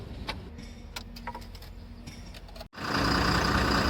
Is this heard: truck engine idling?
yes